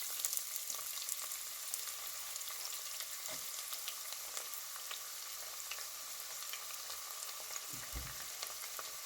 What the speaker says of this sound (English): we are going to add vegetable oil in our saucepan. So guys, we are going to add our chopped onions.